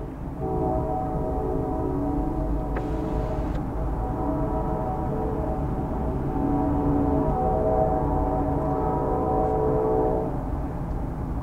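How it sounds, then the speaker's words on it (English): Freight train horn sounding steadily as a train approaches a grade crossing, a loud sustained multi-tone chord over constant rumbling, holding for about eleven seconds with no talking. "That horn can only mean one thing."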